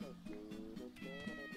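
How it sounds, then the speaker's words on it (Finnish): A cartoonish cat meows in the video game Miitopia: a few short, pitched meows rising and falling over steady background game music. "Oho, kisu."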